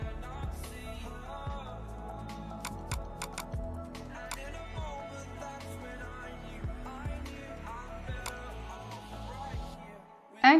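Irregular soft clicks of typing on a computer keyboard while entering data in MS Word, close and quiet, with a voice talking over the keystrokes.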